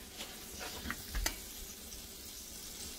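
Eggs fry in butter in a hot pan, a soft, quiet sizzle with faint crackles and a few small pops close by, no voices.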